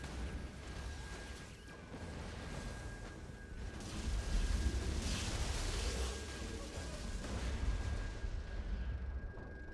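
Grenade blasts in the video game Borderlands: The Pre-Sequel, a dense run of booming detonations and rumbling crashes layered over continuous game noise, swelling louder around the middle and again toward the end.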